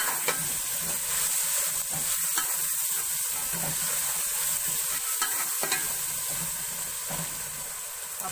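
Tomatoes frying in a pan for a turnip-meat curry, with a continuous dense sizzle and the scrape of stirring throughout, close and loud, no talking.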